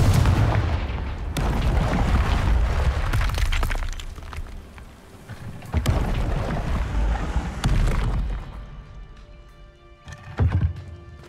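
Blast spell explosions of Confringo in the video game Hogwarts Legacy, heavy rumbling booms with cracking, shattering hits and debris, loud and continuous before fading into scattered impacts.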